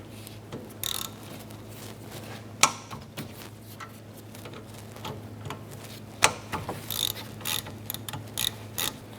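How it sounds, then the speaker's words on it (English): A ratchet with a 14mm socket works loose the brake caliper bolts on an Acura TL, quiet clicking pawl ticks in short bursts with a couple of sharper metallic knocks, no talking. "Using a 14mm socket, we're going to remove the 2 bolts holding our brake caliper on."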